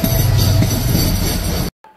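An intercity train on the Dhaka to Cox's Bazar line, crossing the Cox's Bazar Express, makes a loud, close, steady rumble and rattle for under two seconds, then cuts off abruptly to a faint remainder.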